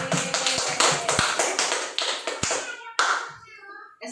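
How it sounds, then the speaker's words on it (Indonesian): A small group claps during a relaxed ice-breaking session. Sharp, distinct hand claps fall in a loose rhythm, then a final burst fades into quiet, with faint voices nearby. "Ayo kita beri aplaus buat kita semua."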